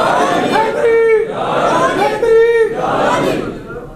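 A large crowd at a religious gathering shouts the Haidari slogan in unison, two loud rhythmic chanted calls in quick succession, with echoing hall ambience.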